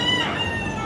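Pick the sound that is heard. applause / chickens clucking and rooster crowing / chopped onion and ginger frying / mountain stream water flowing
chickens clucking and rooster crowing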